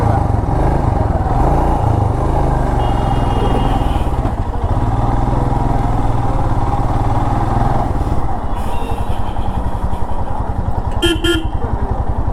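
Royal Enfield Himalayan BS6 motorcycle engine thumping steadily in city traffic, loud and close, with horns honking around it and a sharp toot near the end.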